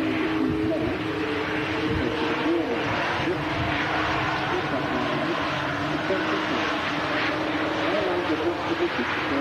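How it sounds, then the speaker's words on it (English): An Aer Lingus ATR turboprop arrives at Manchester Airport, giving a steady, continuous propeller and engine drone that holds loud throughout amid broad outdoor noise. "As the Aer Lingus ATR arrives in on Macca"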